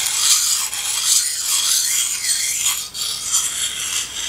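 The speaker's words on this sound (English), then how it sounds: "You're sharpening the knife." A kitchen knife is worked in slow, steady circles on a sharpening stone, producing a continuous close gritty scraping and rasping that swells and eases with each pass, with no voices.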